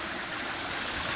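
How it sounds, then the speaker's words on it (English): Water rushes down a mountain waterfall in a steady, loud, broadband roar, heard alone for a brief moment. "As you can see, hear the water rushing."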